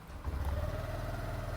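A Honda Activa 6G Standard scooter engine starts quietly and settles into a soft, steady low hum, close by and alone, with no other sounds over it.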